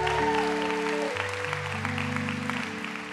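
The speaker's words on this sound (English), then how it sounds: "can we clap our hands if you're in love with Jesus today?" A church congregation claps along over sustained keyboard chords. The steady, moderately loud clapping lasts the whole few seconds, with no voices standing out.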